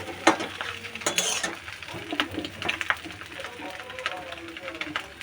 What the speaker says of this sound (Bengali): সমস্ত বেগুনগুলো দিয়ে দিলাম এবার নাড়াবো